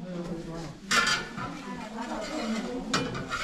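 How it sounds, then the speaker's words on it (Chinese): Dishes and pans clatter in a base camp kitchen on Mt Fansipan during dinner preparation, with light metallic clinks and a couple of sharper knocks under nearby voices. "这边就是 base camp 的厨房，他们在准备着我们的晚餐。"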